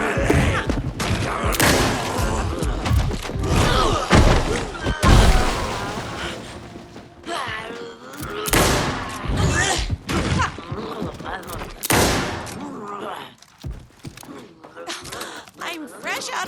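Gunfire and heavy impacts from the Alan Wake 2 Night Springs episode "Number One Fan," dense bursts and thuds arriving in clusters, loud and close, mixed with game music and a voice speaking over the action.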